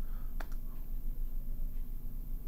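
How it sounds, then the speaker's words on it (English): A right click on a Mac trackpad, made with a two-finger press, gives one sharp, brief click over steady low background hum, with a fainter second tap shortly after. "a right click is either clicking with two fingers on the trackpad or holding down the control key on the keyboard and clicking"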